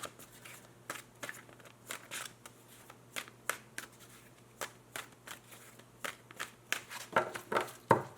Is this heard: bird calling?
no